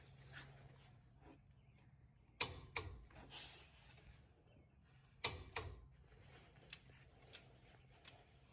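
A torque wrench tightens the front caliper bracket bolts of a 2005 Ford F150 with an 18mm socket, giving sharp metallic ratchet clicks and clacks in scattered bursts against a quiet background.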